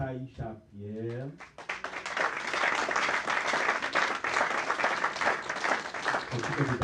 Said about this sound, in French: Maintenant, on applaudit très fort Taïcha Pierre.